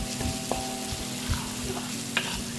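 Five small cut onions sizzle in a hot wok with garlic for Malaysian village-style fried rice, a steady close crackle broken by occasional clanks and scrapes of stirring.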